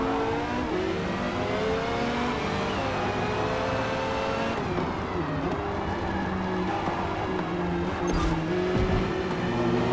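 Race cars, a Porsche among them, roar through Forza Motorsport's Barcelona circuit, engines sustained and loud with revving, a shift in pitch near the midpoint and brief tire noise, no one talking.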